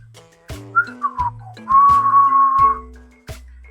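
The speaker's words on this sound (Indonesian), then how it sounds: "Sambil bersiul, mendendangkan lagu ceria" A person whistles a short, lilting melody, with quick chirpy notes, a long held tone, and a few sharp knocks between phrases.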